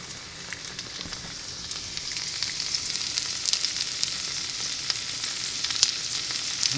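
Potatoes sizzle steadily as they brown in a frying pan for fondant potatoes, a dense continuous crackle with scattered sharper pops, close and fairly quiet, no voices.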